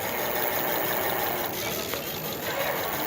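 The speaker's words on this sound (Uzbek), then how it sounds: "motor qo'shdi, ovozi eshitilyapti mana" A 250 W electric bicycle motor whirs steadily as the pedal is turned by hand, a constant close hum with a slight mechanical rattle throughout.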